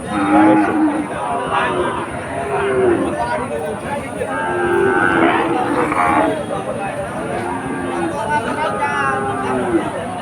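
Cattle low and moo repeatedly at a busy livestock market in Bagerhat, Bangladesh, several calls rising over a steady background of crowd chatter and murmuring voices.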